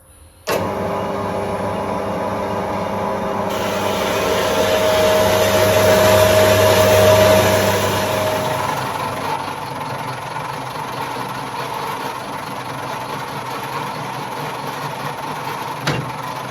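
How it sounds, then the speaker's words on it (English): Metal lathe facing off both ends of a front wheel part for a Motostandard 1010, a steady loud motor whir that swells and eases over the cut with a faint high whine, continuous and close with no voices. "can put that in the lathe and face off both ends"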